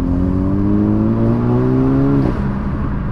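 A Nissan/Renault engine fitted with a GFB DV+ diverter valve revs up with rising harmonic tones and intake noise, then drops off sharply, close and loud.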